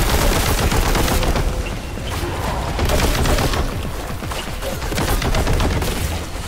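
Dense, loud gunfire from the video game Warhammer 40k: Boltgun, with rapid shots and explosions blending into a constant barrage that never lets up.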